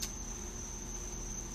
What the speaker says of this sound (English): No, that would be all the crickets behind me. There's a big pond behind me.